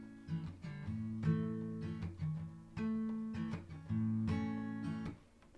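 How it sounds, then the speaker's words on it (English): An acoustic guitar strummed in a quiet, controlled, palm-muted way, with the thumb picking the root note of each chord and letting it ring; short damped strokes and chord changes follow in a steady rhythm, close and alone. "we have a much quieter, more controlled strumming technique"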